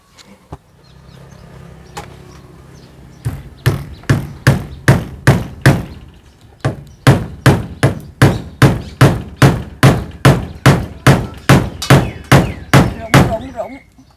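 A hammer drives a nail while decorating a yellow apricot blossom tree for the new year, the blows landing in a long, steady series of sharp, loud knocks, with a brief pause partway through and a low hum of voices and background noise beforehand.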